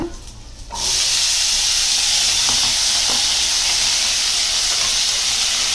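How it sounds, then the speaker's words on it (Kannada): Potatoes tipped into a hot pan of browned garlic for aloo methi bhaji, a quiet start giving way to a loud, steady sizzle and hiss that carries on evenly, with a few faint stirring clicks. "ಬೆಳ್ಳುಳ್ಳಿ ಸ್ವಲ್ಪ ಬ್ರೌನ್ ಆದಮೇಲೆ ಆಲೂಗಡ್ಡೆ ಹಾಕ್ಕೊಳ್ಬೇಕು. ಇವಾಗ ಆಲೂಗಡ್ಡೆ ಹಾಕ್ಕೊಳ್ಳೋಣ."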